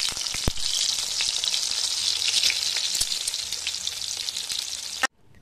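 Eggs frying in hot oil in a kadhai for Indian egg curry, a steady loud sizzle with crackling spits running for about five seconds before cutting off abruptly, no voices present.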